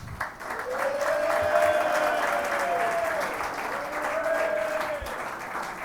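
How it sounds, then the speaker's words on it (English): A crowd at an MLS press conference for a new Los Angeles club breaks into loud, sustained applause that swells and holds steady before tapering slightly, with a whistle-like tone rising over it. "right now he's leading in applause"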